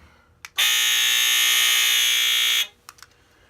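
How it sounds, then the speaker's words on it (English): A SLYFOX Alarm 8008 fire alarm panel buzzer sounds a loud, steady electronic tone for about two seconds, framed by a few faint clicks before and after. "the buzzer does sound kind of weird"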